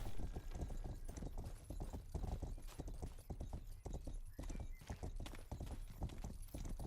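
Horse hooves clip-clop in the medieval video game Rustler, a steady brisk rhythm of close, distinct hoofbeats running throughout at moderate level, alone without talk.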